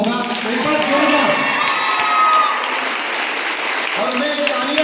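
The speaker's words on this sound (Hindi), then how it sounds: "और मैं तालियां क्यों बजवा रहा हूं?" Audience applause at a Republic Day speech event in Sawai Madhopur, a loud sustained wash of clapping mixed with crowd cheering and shouting, voices rising over it throughout.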